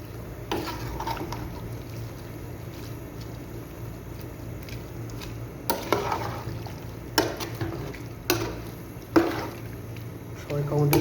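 Small mola fish curry with black eggplant being stirred gently in a pan: a soft, steady bubbling bed broken by four or five sharp spatula scrapes and clacks in the second half, fairly close.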